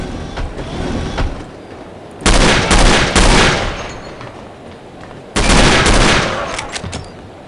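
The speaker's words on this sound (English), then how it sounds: "These guys really like these loud guns." Loud enemy gunfire in the No One Lives Forever shooter game: two heavy bursts of rapid automatic fire over a steady rumbling game background, close and dominating.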